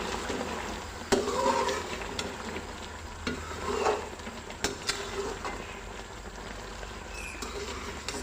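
Korma masala and whole spices, including white cumin and dry coriander, roast in a pan for chicken korma, giving a soft steady sizzle with occasional stirring clinks and scrapes, fairly quiet and close.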